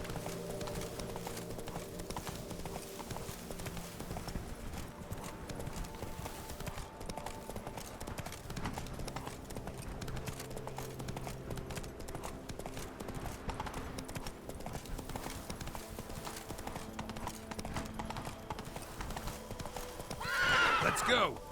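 Roach, the horse in The Witcher 3, gallops with a steady, close clip-clop of hoofbeats and a whinny near the end, while a voice talks over the running.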